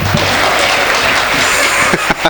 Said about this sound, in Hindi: अरे ताली फाली बजाओ